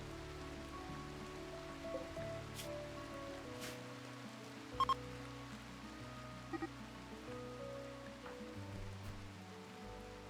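Steady rainfall from the colony-building game RimWorld, a soft continuous patter with a few faint tonal blips and clicks over it, no voices.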